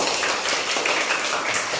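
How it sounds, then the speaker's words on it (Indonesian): A classroom of students claps for their poster presentations, a dense, continuous patter of many hands that is loud and close and holds steady for about two seconds. "ayo tepuk tangan dulu semua karena sudah menunjukkan atau membuat poster pada hari ini"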